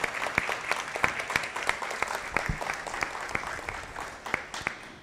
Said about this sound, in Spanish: yo sí quiero pedir un aplauso de nosotros los asistentes a los niños